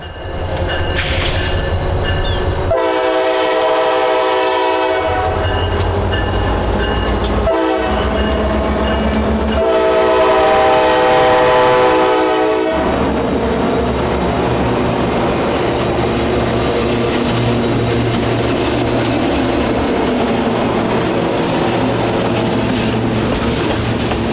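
A freight train hauled by ex-CN SD60F locomotives on the Aberdeen, Carolina and Western rumbles past steadily for the whole stretch, with two long, loud horn blasts sounding near the start before the steady rolling noise takes over.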